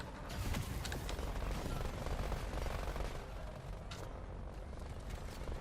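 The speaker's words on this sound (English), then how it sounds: "They have minigun turrets" Minigun turrets in a video game firing in a dense, continuous rattle of rapid shots with scattered louder bursts, heard at a moderate distance and fairly quiet overall.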